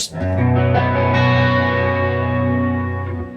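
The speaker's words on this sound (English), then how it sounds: "That's when I use chorus." A sustained, shimmering electric guitar chord rings out with a wide chorus effect, loud and alone, slowly fading at the end.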